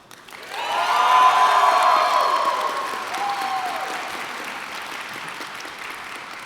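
A crowd at a Magic: The Gathering event at PAX claps and cheers, with a voice or whistle rising over the applause early on before the noise gradually tapers but keeps going.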